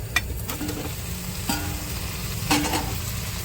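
Fried fish and potatoes being turned through spice paste in a pan: a soft continuous sizzle with occasional clicks and scrapes of a spoon, fairly close and moderate in level, with no speech.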